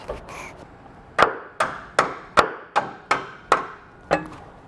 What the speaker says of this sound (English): you may need a hammer to tap it into place